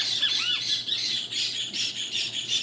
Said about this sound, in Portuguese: O som do quero-quero faz parte até das minhas filmagens